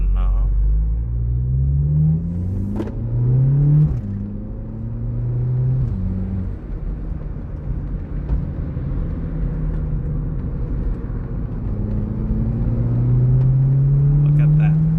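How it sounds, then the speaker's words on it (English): A 2016 VW Polo 6C GTI with a 1.8 TSI turbo four and DSG accelerating hard from the driver's seat, engine note climbing steadily through several gear changes over a constant loud cabin rumble. "Acceleration now."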